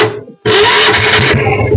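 A diesel engine on a Bullet motorcycle fires up on its self starter after a short crank, catching at once into a loud, close, steady idle with a rhythmic low chug.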